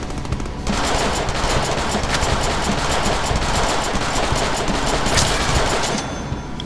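Gunfire in the Deadpool video game comes as a loud, sustained rapid burst of automatic shots, dense and continuous for several seconds with a few sharper cracks standing out, then cutting off abruptly.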